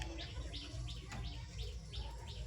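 Fancy pigeons in their enclosure give a series of soft, repeated calls and chirps, evenly spaced and close, over a steady low background rumble.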